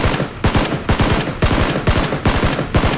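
Gunfire in the PUBG battle royale game, about eight loud, sharp shots in a fairly regular rhythm, close and punchy, with no talk over them.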